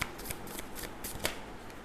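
Tarot cards being shuffled close by make quick, soft riffling flutters in a brisk uneven rhythm, quiet and alone.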